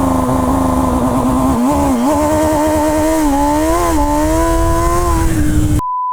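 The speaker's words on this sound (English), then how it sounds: "Pull the clutch, engage first gear, full throttle." A 208 hp MV Agusta Brutale 1000 RR motorcycle pulls away at full throttle, its loud, close engine note climbing steadily through the gears for about six seconds before cutting off abruptly.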